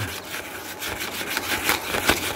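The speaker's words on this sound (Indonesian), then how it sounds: "Coba kita amplas sedikit sobat ini. Ya, amplasnya ringan saja sobat, ringan saja." A metal plate from a Miyako KSB-18 fan being lightly sanded by hand with sandpaper, giving a close, soft, continuous scratchy rasp in uneven strokes with no talk.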